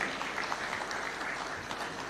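Audience at a Taxpayers' Day award ceremony at State House Nairobi applauds recipients, a steady, dense wash of many hands clapping at even loudness throughout.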